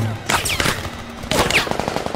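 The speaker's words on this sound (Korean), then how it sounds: "계속되는 총성을 틈타 도망치는 태우." Continuous gunfire in a war-torn city, rapid machine-gun bursts in two loud volleys with a short gap between them, close and dominant with no talk.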